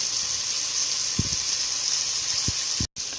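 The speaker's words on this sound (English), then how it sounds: "And then I'm just going to sear it a little bit in this olive oil, very hot skillet." Flour-dusted beef sears in very hot olive oil in a skillet, a steady close sizzle and hiss throughout with a few soft knocks.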